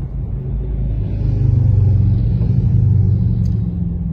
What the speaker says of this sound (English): Motorcycles arriving for the motorcade.